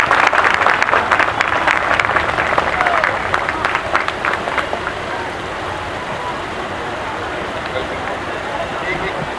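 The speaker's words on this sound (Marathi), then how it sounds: "सर्वांनी जोरात टाळ्या वाजवा." An audience claps loudly and densely during a Buddhist monk's Marathi talk, a sustained burst for about five seconds that then fades into a softer, steady crowd murmur.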